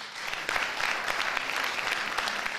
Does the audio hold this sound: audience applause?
yes